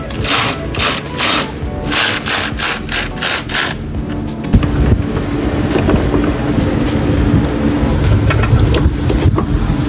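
A car alternator being installed in a repair shop, with a bolt screwed in by a power tool. A loud mechanical whirring runs in rapid pulses, then turns into a steadier grinding hum.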